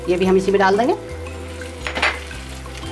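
Tomato puree sautéing in a pan with garlic and ginger gives a soft, steady sizzle and frying hiss, with stirring and a utensil tapping the pan, under a voice talking over the cooking.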